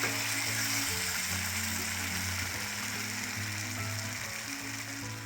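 Tomatoes fry in a pan for a paneer gravy with a soft, continuous sizzle at moderate distance. It holds steady throughout while a low hum runs underneath, and no voices are heard.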